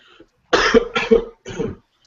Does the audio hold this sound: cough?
yes